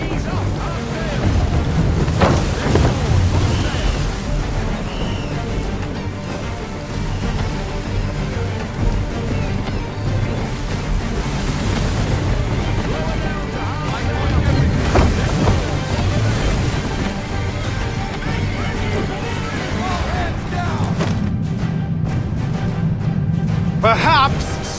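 A sailing ship at sea in Assassin's Creed III, with loud rushing wind, surging waves and creaking hull noise throughout, under shouted crew commands and other game voices.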